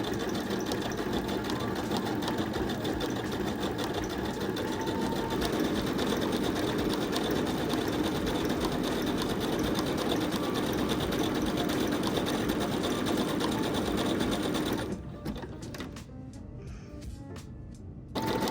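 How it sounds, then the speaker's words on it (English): A sewing machine runs a zigzag overcast-style stitch through denim patchwork, a loud, steady, fast mechanical whir that stops abruptly near the end, leaving a quieter room. "Then a zigzag stitch. On my machine, I used stitch number 11, which looks like an overcast stitch."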